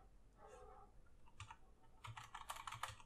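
WASD keys pressed on a Pok3r mechanical keyboard, a quiet, close burst of clacky keystrokes coming in quick clusters after a near-silent start.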